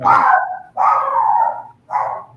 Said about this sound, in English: Sounds like a dog in the window.